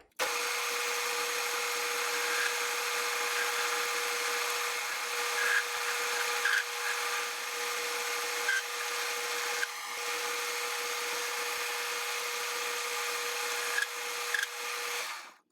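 A tool steadily grinds a chamfer into the steel muzzle ring of a Krag bayonet, a continuous close whirring hum that holds at an even level for about fifteen seconds with small scraping variations.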